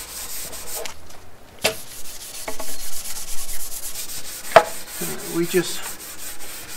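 A cloth rubs oil finish into a wooden floating shelf, producing close, uneven swishing and scuffing strokes with a few sharper knocks, and a voice briefly speaks partway through.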